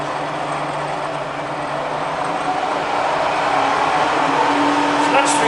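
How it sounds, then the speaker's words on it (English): A Bridgeport milling machine spindle whirs steadily up close, its broadband hum shifting and growing slightly louder partway through as the speed changes. "So I'll go up and down the spindle speed range now"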